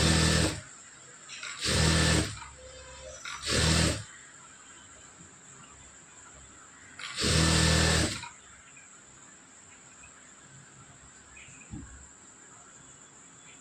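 A sewing machine stitches a long seam in folded fabric in three short, loud bursts followed by one longer run, with quiet pauses between them over a faint steady hum.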